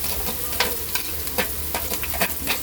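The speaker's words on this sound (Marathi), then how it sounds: "बारीक चिरलेला हा कांदा टाकते. तेल मस्त गरम झालेला आहे." Finely chopped onion goes into about two spoons of hot oil for paneer bhurji, giving a steady close sizzle with a spoon scraping and stirring at irregular intervals throughout.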